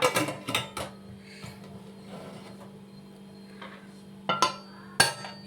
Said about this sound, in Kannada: ಕುಕ್ಕರ್ ಮುಚ್ಚಳ ಹಾಕ್ಬಿಡೋಣ